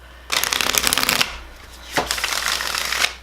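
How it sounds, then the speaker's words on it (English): Tarot cards are riffled and shuffled in two bursts of crisp, rapid flapping and ruffling, close and fairly loud, with a short pause between. "So let me give this a quick shuffle."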